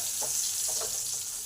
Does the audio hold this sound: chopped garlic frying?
yes